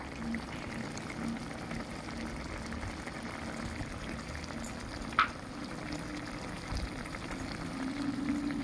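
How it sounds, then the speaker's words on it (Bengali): Crab curry simmering in a pot after coriander leaves go in, giving a low, steady bubbling under faint kitchen background, with one brief clink partway through. "ভালো করে ভালো করে এবার ফুটিয়ে নেব"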